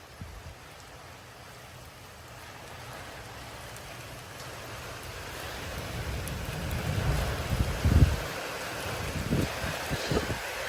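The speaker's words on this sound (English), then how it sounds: "This is like 60-mile-an-hour wind." Strong storm wind, around 60 mph, roars in a steady broadband wash with rain mixed in, building louder and gustier toward the end during a storm in Frisco, Texas.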